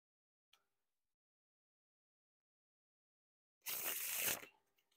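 A deck of third-edition Bicycle Johnny Cupcakes playing cards gets a burst of riffling and fanning, a dense papery flutter lasting under a second after a tiny tap and near silence.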